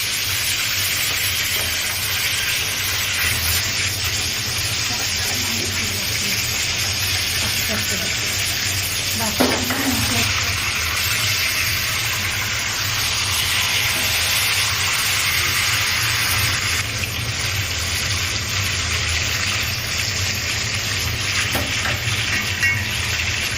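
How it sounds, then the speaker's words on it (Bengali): Fish pieces fry in hot oil with a constant loud sizzle and hiss that runs unbroken. A faint voice and an occasional scrape or clink sit beneath it. "এই মাছগুলো আমি ভেজে নেব ভেজে নিয়ে রান্না করে নেব"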